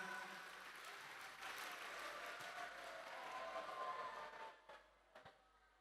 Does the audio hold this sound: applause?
yes